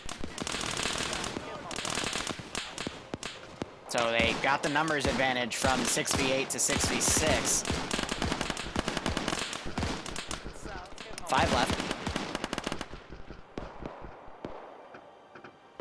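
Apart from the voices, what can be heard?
gunfire in a video game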